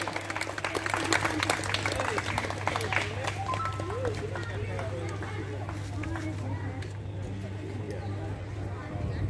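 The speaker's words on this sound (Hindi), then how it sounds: "सुजीत जी सिंह को जोरदार ताली से बजाइए" An audience claps at an Ekta Vikas Manch family get-together in Jamshedpur, a dense burst of applause that is strongest at first and then tapers off, with crowd chatter and a speaking voice over it.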